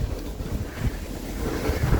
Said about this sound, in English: Really windy out here today.